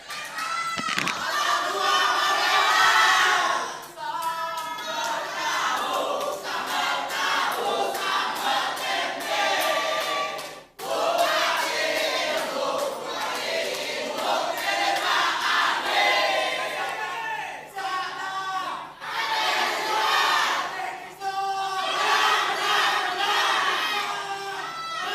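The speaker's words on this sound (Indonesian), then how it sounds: "silakan kepada pendukung paslon nomor urut 2 untuk menyuarakan yel-yel dan berikan tepuk tangan kepada paslonnya" Supporters of a candidate pair chanting slogans and clapping at a live regional election debate for regent and deputy regent in Indonesia, a loud dense crowd roar of shouted chants and claps that continues unbroken and close-up.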